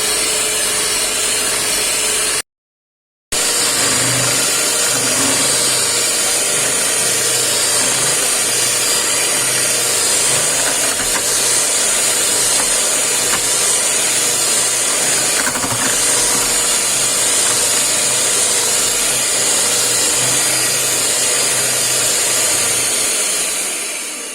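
An electric mixer whips cream at high speed in a home kitchen, a steady loud motor whir with a continuous buzzing drone that runs without pause, broken only by one short gap near the start.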